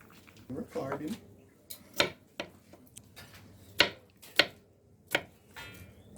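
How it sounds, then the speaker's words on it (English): Garlic is chopped on a board, with sharp knife taps coming one at a time at an uneven pace, close by and fairly quiet, with a voice speaking early on. "Cutting up some garlic to put on my peas."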